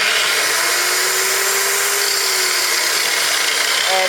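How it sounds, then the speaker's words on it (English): Heavy 9-inch angle grinder running loud and close, a dense high whine with a faint tone that slowly falls as the disc spins down, with no other sounds over it. "I like this 9-inch grinder. It's really good"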